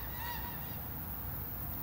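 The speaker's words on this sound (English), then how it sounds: "Geese?" A few faint geese honk in the distance over a low, steady background rumble in northern Spain, brief calls early on then fading.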